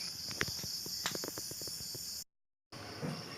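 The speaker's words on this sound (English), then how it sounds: "Look at this, my wife has captured this insect and kept it here" A captured insect, kept in a container by a wife, scrabbles and clicks in short, irregular bursts as it tries to escape, close and faint over a steady high whine, with a brief dropout of silence.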